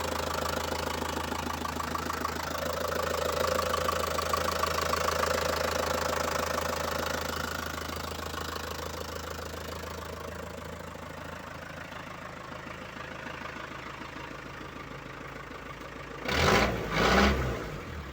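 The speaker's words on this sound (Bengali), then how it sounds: "গাড়িটি কিন্তু স্টার্টে আছে ইঞ্জিনের সাউন্ডটা আপনারা শুনতে পারছেন" A Tata DI RX vehicle's engine idles steadily and loudly up close, a continuous rough mechanical drone with a faint knocking texture, ending in a few brief sharp bangs near the end.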